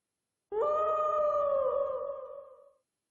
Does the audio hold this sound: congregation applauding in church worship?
no